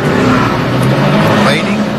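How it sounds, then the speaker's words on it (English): Race cars sweep past during a NASCAR Sprint Cup caution period at Watkins Glen in 2011, a steady loud engine drone with a doppler shift as one car passes, under commentators' talk. "Look at all the cars going by."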